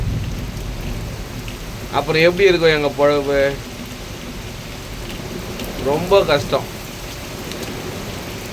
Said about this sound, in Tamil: இப்போ பெஞ்சுது பார்த்தியா இந்த மழை